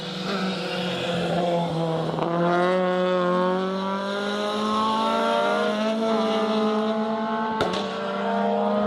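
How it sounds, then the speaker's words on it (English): Ford Fiesta ST rally car in gravel trim on a circuit rally stage, engine rising in a clear, loud revving drone as it bounces over curbs, with a sharp thump near the end. "bouncing over the curbs on 2 wheels there. Tom Naylor in that little Fiesta ST."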